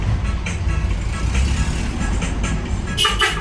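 Steady road traffic on a busy Philippine street, a continuous low rumble of trucks, buses and cars passing close by, with a brief brighter hiss or brake sound near the end.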